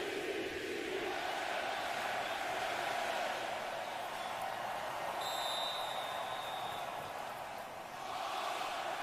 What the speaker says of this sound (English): Crowd is pumped up.